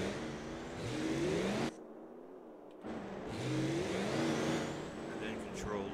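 Car engine in the Ski Ball video game accelerating under throttle, a steady revving whine whose pitch climbs, cutting out briefly midway before resuming and rising again.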